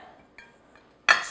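A large metal spatula touches a serving platter while a cake is readied for frosting. Two light, faint clinks come first, then a sudden louder metallic clatter rings out at the end.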